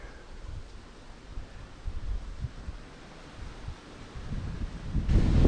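Wind gusting across an exposed hilltop at a wild bivvy camp, a steady low buffeting roar that swells unevenly and grows strongest in the final moments.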